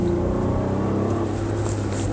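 Steady V6 exhaust drone from a 2023 Honda Pilot Trailsport AWD, a low continuous hum held at an even level for the whole stretch with no voices over it.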